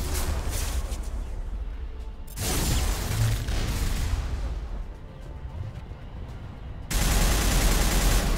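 Heavy, sustained gunfire from Mass Effect's Virmire mission, mixed with booming heavy-weapon blasts; the loud barrage eases briefly in the middle, then resumes abruptly at full force.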